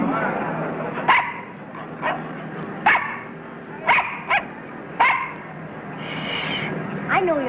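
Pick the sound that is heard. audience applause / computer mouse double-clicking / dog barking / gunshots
dog barking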